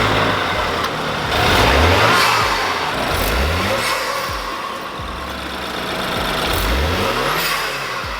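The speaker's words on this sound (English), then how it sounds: "Let's start it up and see how it sounds." A BMW N20 four-cylinder fitted with an AWE carbon S-Flo intake runs loud and close, its engine note rising and falling through several rhythmic revving swells with a rough, pulsing character.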